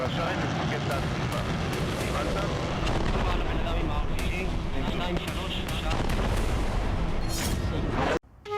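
Heavy aerial bombardment over Khan Younis in southern Gaza: a dense, continuous roar of rumbling blasts and booms, loud and sustained throughout before cutting off abruptly near the end.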